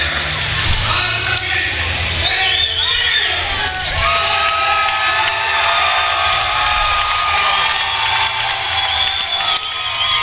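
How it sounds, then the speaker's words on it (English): A crowd at a Fight Lab MMA event roars and cheers continuously and loudly, with shouts and whoops rising over a steady wall of noise while a commentator talks over it. "this crowd is just electric"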